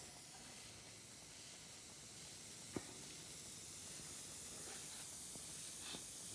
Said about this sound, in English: So we'll just do a little test to see how much air steam pressure we got.